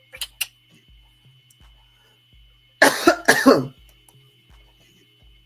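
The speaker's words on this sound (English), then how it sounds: "Excuse the coughing too" Two loud, harsh coughs in quick succession close to the microphone, with a faint clock ticking steadily in the quiet background.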